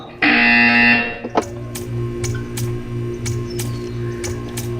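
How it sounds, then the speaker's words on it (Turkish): A loud, harsh electronic buzzer in the video game Portal 2 blares for about a second, followed by a steady hum with rhythmic clicks and ticks. "You will hear a buzzer."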